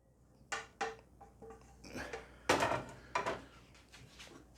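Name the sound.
serving salmon, pea and broccoli risotto into a bowl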